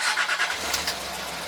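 A 2007 Land Rover Discovery 3 engine catches and settles into a low rumble over a brief starter whir, heard close and fairly loud.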